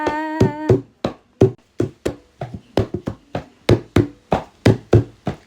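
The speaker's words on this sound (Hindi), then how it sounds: "कोई तालियां बजा कर देखो कि रौनक लग जाएगी कीर्तन में अमृत बरसेगा।" Hands clap in a steady rhythm along to a devotional bhajan kirtan, each clap sharp and distinct, about two per second, with a singing voice at the start.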